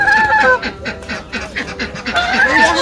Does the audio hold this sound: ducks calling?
yes